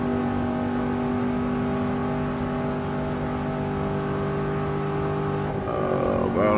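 A classic car's engine revs in Gran Turismo Sport at the Nurburgring, a sustained, strongly tonal drone near 6,000 RPM that holds steady, then shifts abruptly near the end, loud and continuous.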